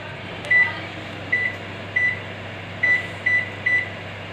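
A microwave oven being set for 25 minutes to cook rice: six short, clean electronic beeps from button presses at uneven intervals over a quiet background hum, with no talking.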